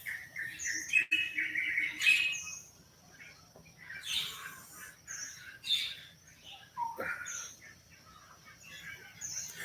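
Rowdy birds chirp and squawk outdoors in Thailand, a scattered mix of sharp tweets and harsh calls coming at irregular moments, some close and some further off.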